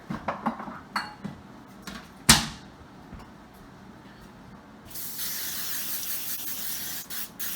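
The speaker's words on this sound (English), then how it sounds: "We're going to go ahead and take some cooking spray." A hissing can of cooking spray runs steadily for a few seconds onto foil, after some clinking kitchen handling sounds and a sharp metallic clank.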